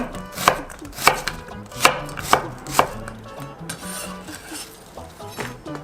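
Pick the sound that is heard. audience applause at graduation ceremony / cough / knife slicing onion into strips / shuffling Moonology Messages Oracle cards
knife slicing onion into strips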